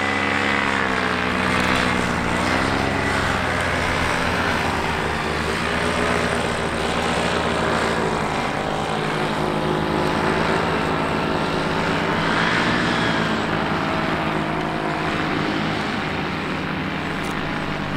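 A paramotor engine drones overhead in steady flight, its propeller hum loud and continuous with slight shifts in pitch as the craft passes, and no talking.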